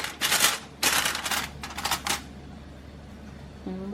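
Foil paper crinkled and handled while lining baking pans for a homemade bake sale, several sharp, close rustling bursts in quick succession, with a brief voice at the end.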